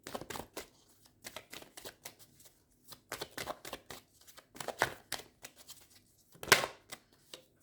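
Tarot cards being shuffled and laid out, quiet close riffles and soft slaps in irregular bursts with brief pauses, one sharper card snap near the end.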